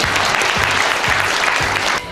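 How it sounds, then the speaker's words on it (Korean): Sustained applause from an audience at a formal Korean policy forum in honour of Dosan Ahn Chang-ho, a dense, steady clapping texture that fills the whole moment and drops off near the end. "큰 박수 부탁드립니다"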